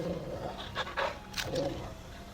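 Rapid rhythmic panting of a dog companion in the video game Final Fantasy XVI, several quick breathy bursts, fairly close and moderately loud, with no talk over it.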